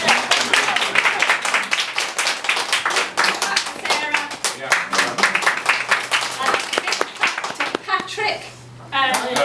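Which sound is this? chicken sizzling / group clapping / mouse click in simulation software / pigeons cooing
group clapping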